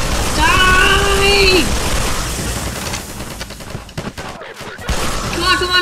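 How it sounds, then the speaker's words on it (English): Rapid bursts of gunfire from guns in Garry's Mod, a loud sustained fusillade of shots with brief gaps, mixed with game sounds. "I'm shooting my own men!"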